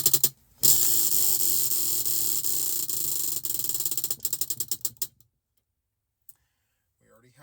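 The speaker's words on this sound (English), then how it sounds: "let's go ahead and spin the wheel for our 4th and final stitch." Prize wheel spun to pick a crochet stitch, clicking rapidly at first and then slowing into spaced ticks before it stops, followed by near silence.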